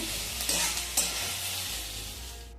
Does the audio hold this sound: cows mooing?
no